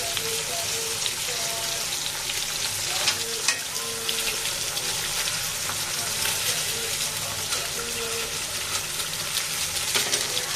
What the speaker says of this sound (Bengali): ডিমটাকে সাইড থেকে আমি ভাজা ভাজা করে নিচ্ছি